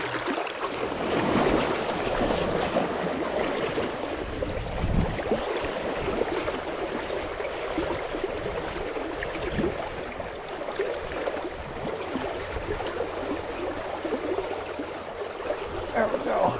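High, heavy spring river water rushes steadily through a deep run while fly fishing, a continuous close broadband roar with someone talking over it.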